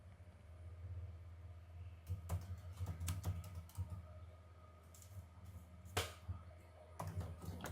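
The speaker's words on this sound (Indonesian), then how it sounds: "Kemudian saya ketik prompt-nya." Quiet, close keystrokes on a computer keyboard come in short bursts and pauses as a prompt is typed, with a low steady hum underneath.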